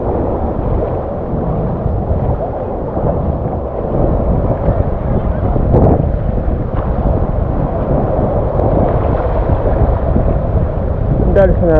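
Sea waves rolling onto a beach at Anapa on a windy day, a loud continuous wash of surf mixed with heavy wind buffeting the microphone.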